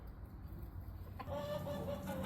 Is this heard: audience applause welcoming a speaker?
no